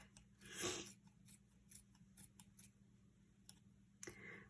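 Scissors snip through lampshade material in a quiet room, a handful of short crisp cuts spaced irregularly, with one louder, longer rasping cut near the start.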